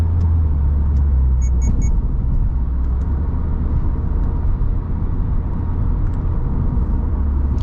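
A 2022 Subaru WRX GT with the Performance Transmission accelerating, its steady, loud engine rumble filling the cabin continuously with no break.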